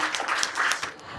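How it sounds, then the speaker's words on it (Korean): A brief burst of applause from an audience at a Korean information session, steady clapping lasting about a second. "수고해주신 두 분께 큰 박수 부탁드립니다."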